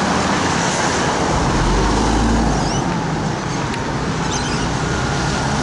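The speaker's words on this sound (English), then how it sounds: "There's a truck there." A waste and recycling truck rolls along a nearby street, a steady broadband engine and road rumble that swells slightly around the middle of the passage and keeps going throughout, with no talk over it.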